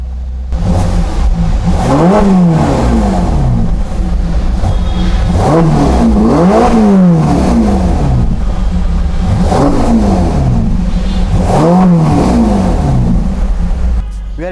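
A Ferrari GTC4Lusso T's 3.9-liter bi-turbo engine revs loudly and close in an indoor public building, with repeated sharp throttle blips rising and falling in pairs over a steady idle.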